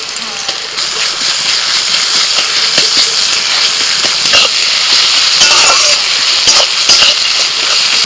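Chopped garlic goes into onions already frying in oil for a duck curry, giving a steady loud sizzle throughout with a few clinks and scrapes of stirring over it.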